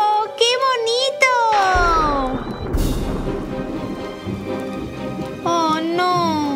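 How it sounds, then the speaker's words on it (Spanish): Cartoon rain pattering down at a party scene, a dense steady hiss that swells midway, with bright musical chimes and a child-like voice at the start and end. "Ahora llueve más."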